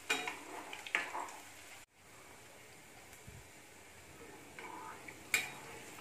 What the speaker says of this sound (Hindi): ये बहुत ही अच्छे से फ्राई हो रहा है